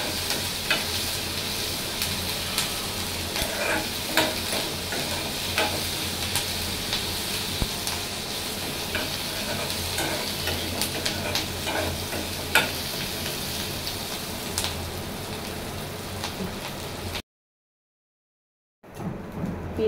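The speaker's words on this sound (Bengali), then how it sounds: "আমি চুলার আঁচটা একটু মিডিয়ামে দিয়ে ভাজতেছি" Onions frying in a pan over medium heat, a dense continuous sizzle with occasional stirring scrapes, running steadily and loud before cutting briefly to silence near the end.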